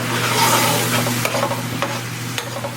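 Chicken cube, adobo and black pepper being stirred in a sizzling pan: a loud steady fry hiss with a few distinct scraping strokes of the spoon, up close and without talking.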